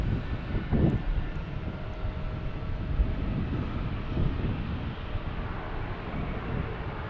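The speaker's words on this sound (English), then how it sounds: "the Lufthansa A380 is at the end of the runway, 15" A Lufthansa Airbus A380 sits at the end of a runway at Logan Airport, giving off a steady, moderately distant jet engine rumble with wind noise over the microphone and no talking.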